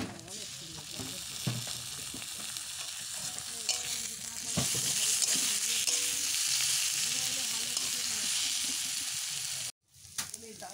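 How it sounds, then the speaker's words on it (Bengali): Onions fry in a little oil in a pan, stirred until reddish, giving a steady close sizzle with scraping strokes throughout and a brief break near the end. "অল্প তেল দিয়ে ভাজছি, অল্প তেল দিয়ে ঝালটা করবো"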